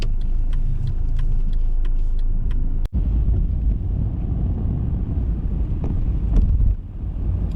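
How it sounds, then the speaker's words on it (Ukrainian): A taxi car pulls away and drives steadily, its engine and road rumble low and continuous. Wind buffets the microphone throughout, with one sharp dropout partway through and a brief louder swell near the end. "Так, зараз потрібно виїхати акуратно."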